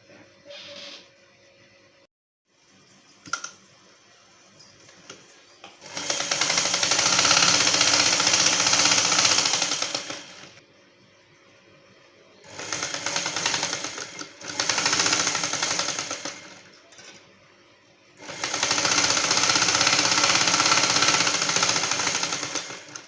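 A sewing machine stitches a dress coat seam in three long loud runs of steady whirring, separated by short pauses and quieter handling noises, with no talking.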